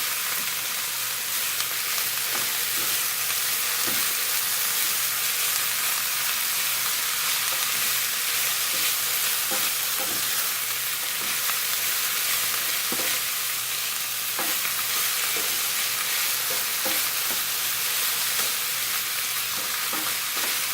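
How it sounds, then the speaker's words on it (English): Mushrooms frying in a pan for a broccoli cheddar frittata, a steady close sizzle running throughout with scattered scraping clicks and knocks from a utensil stirring them around. "let's give this a good stir"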